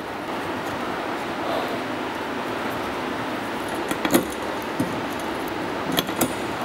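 A small key works the fittings of a RackClip 2 roof rack on a truck fitted with a BakFlip CS tonneau cover, giving a few faint metallic clicks and clinks over steady outdoor hiss, with no talking.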